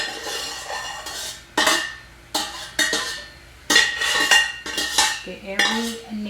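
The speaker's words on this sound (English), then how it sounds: "Give that a stir." Lo mein noodles stirred in a wok, with bursts of metal utensils scraping and clanking against the pan in an irregular rhythm, close and fairly loud, with no speech.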